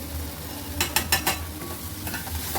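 Tomatoes and spices frying in a pan for a spinach and chickpea bhaji, with a soft continuous sizzle broken by a quick burst of three or four scraping stirs in the middle, close up and without talk.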